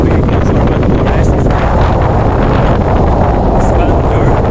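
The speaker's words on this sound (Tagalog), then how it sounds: "Kasi sobrang hangin." Strong wind gusts through Wellington's urban forest, a steady loud broadband roar buffeting the microphone for the whole stretch without letup.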